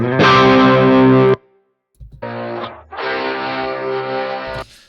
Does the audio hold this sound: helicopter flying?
no